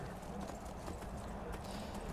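Horse hooves clip-clop steadily in Skyrim, moderately close and fairly quiet, with a low background murmur and a voice faintly present.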